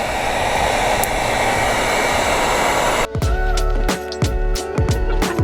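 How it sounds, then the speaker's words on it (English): Heat gun on its low setting blowing a steady loud rush of air while wrapping chrome delete trim on a Lexus GX, the hiss giving way partway through to a sputtering, pulsing airflow with sharp crackles. "apply heat, use the low setting, spread the heat evenly"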